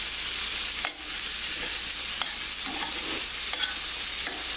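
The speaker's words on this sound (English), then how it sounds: "Just stir this up. Now the flour that's on the beef" Floured beef short ribs sizzle in a greasy pan, a steady hiss with a few sharp scraping knocks as they are stirred, close and alone.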